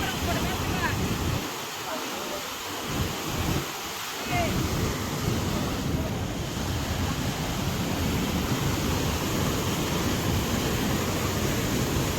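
Loud, steady rushing of the flooded Godavari River at Mahegaon Deshmukh fills the whole stretch, a broad continuous roar with brief dips near the start, like fast river water surging past nearby.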